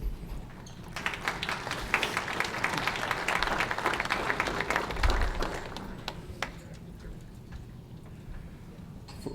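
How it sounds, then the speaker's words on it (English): Sustained audience applause at a 2015 Chiefs of Ontario education gathering, many hands clapping in a full, even wash that swells and then slowly thins toward the end, with no speech over it. "huge rounds of applause to the Honorable Paul Martin"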